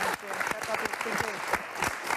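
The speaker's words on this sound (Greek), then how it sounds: "ένα χειροκρότημα" A studio audience claps at a Greek live TV talk show, a dense, steady round of applause lasting a couple of seconds, with voices talking over it.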